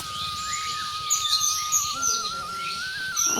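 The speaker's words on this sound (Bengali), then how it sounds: "পাখির কিচিরমিচির শব্দে আমার ভীষণ ভালো লাগছে" Birds chirp in an old banyan tree, with a thin sustained whistling call and bright, overlapping tweets at close to moderate distance over a low murmuring background.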